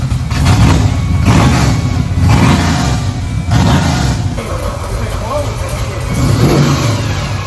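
A 1970 Chevrolet Chevelle with an LT4 V8 revs hard in repeated loud surges, roaring up and easing off, with voices faintly audible beneath the noise.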